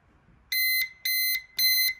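Three loud electronic beeps in a steady rhythm, each about a quarter second long with a short gap, from a nearby Kwikset Powerbolt 2 keypad deadbolt lock after being reset.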